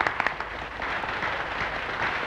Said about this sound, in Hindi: तालियों की गड़गड़ाहट में कुछ सुनाई नहीं देता।